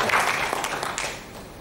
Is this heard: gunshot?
no